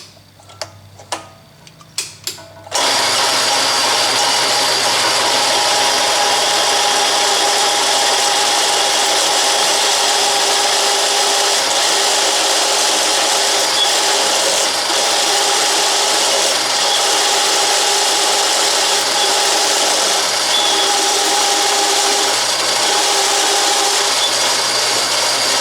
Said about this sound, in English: So I'm trying to show you ways here of drilling large holes at slow speed